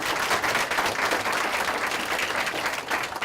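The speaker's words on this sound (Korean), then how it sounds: "그거 인정하시면 박수 한번 쳐주세요" Sustained audience applause from a lecture hall crowd, dense steady clapping filling the whole stretch at even loudness with no voices over it.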